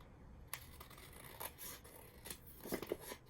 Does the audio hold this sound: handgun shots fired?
no